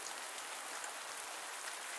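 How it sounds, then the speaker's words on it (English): Rain in the Pumpkin Days farming game falling steadily, a dense even hiss of drops on surfaces, constant and unbroken with no voices. "Let's get out of the rain."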